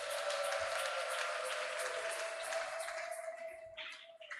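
A church congregation claps in acclaim of the Lord, a dense crowd applause that starts full and gradually thins out toward the end, with a faint sustained tone beneath.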